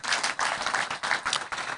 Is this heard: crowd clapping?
yes